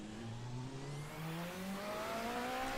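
Race car engine in the RSS Classic Endurance Pack racing game, revving and rising steadily in pitch as it accelerates, a smooth continuous mechanical whine without talk.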